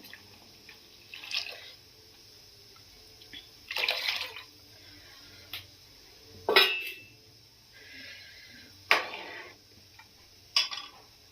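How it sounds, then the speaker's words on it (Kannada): Lentil cooking water poured into a pot of boiling rasam (tili saaru with dal and jaggery), giving several brief, uneven splashing and gurgling bursts over a quiet kitchen background, with no one talking. "ಈಗ ಬೇಳೆ ನೀರನ್ನು ಸೇರಿಸ್ಕೊತಾ ಇದ್ದೀನಿ"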